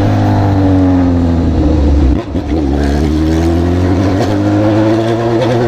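A motorcycle fitted with an exhaust eliminator (straight pipe) revs loudly and continuously up close, its raw, unmuffled engine note rising and falling with a brief dip midway.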